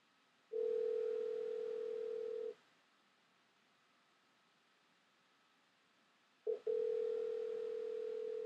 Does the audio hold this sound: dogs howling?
no